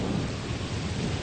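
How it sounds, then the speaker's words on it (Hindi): Heavy rain pours down in a dense, continuous roar, with deep rolling thunder rumbling underneath throughout. "वाष्प का संघनन हुआ और वह सघन बादल बनने लगे और फिर मूसलाधार बारिश होने लगी"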